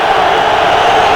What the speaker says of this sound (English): This crowd, very excitable